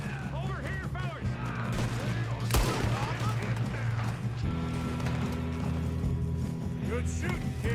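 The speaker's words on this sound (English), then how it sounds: "Good shooting, kid." Gunfire rings out in the Red Dead Redemption video game during a train robbery, with a burst of sharp shots amid hoofbeats and mechanical clatter, under loud voices and a steady droning background.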